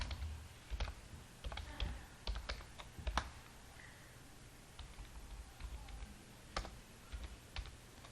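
A computer keyboard clatters as someone types C# code for a non-generic Hashtable class, with steady, close keystrokes in uneven bursts and no talking.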